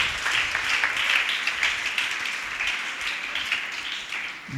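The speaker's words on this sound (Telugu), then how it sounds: "చప్పట్లు కొట్టి ప్రభువుని మహింపరుద్దాం" A church congregation claps during Sunday worship, a steady wash of many hands at moderate volume, continuous and fairly even.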